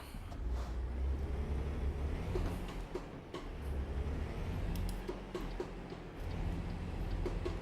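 A truck in American Truck Simulator rumbles as it pulls away, a low steady engine drone that swells and dips with gear changes, close and continuous with no talk.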